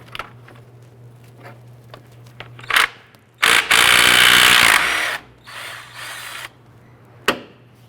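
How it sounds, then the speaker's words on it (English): A 17mm socket ratchet loosens motor mount bolts on a 2001-2005 Honda Civic, with scattered sharp clicks and a loud, harsh burst of tool noise partway through, then more intermittent clicking. "Using our 17mm socket, we're going to go ahead and remove this,"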